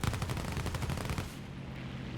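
Ki-84 fighter plane guns firing in a video game, a rapid burst of machine-gun fire lasting just over a second before cutting off and leaving a faint engine drone.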